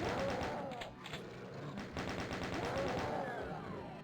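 Chaingunner firing in Doom II, a steady rapid rattle of gunfire lasting about four seconds, loud and continuous with brief dips, with no voices over it.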